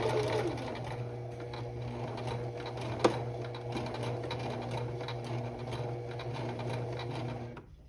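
A sewing machine stitches a buttonhole, a steady, close motor whir with rapid needle chatter running for about eight seconds, one brief louder knock partway through, then stopping abruptly at the end.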